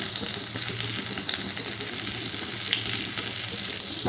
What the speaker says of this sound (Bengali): আবারও এগুলো ভালো করে ভেজে নেব